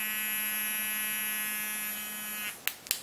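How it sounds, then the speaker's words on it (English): A Pop travel electric toothbrush powered by a AAA battery buzzes with a steady, close, high-pitched electric drone that cuts off after about two and a half seconds, followed by a few sharp clicks. "This was the Pop Travel Toothbrush, and it runs on a AAA battery inside"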